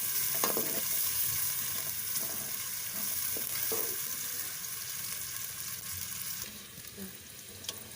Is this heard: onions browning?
yes